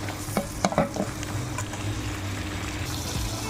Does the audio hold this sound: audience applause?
no